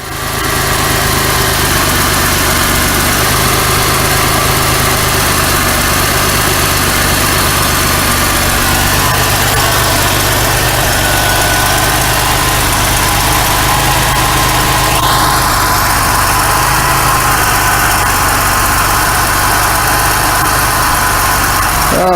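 A 1991 Oldsmobile Cutlass Ciera with a warm-engine misfire idles roughly, a loud, constant, close engine drone with a slight uneven wobble and a rising whine partway through.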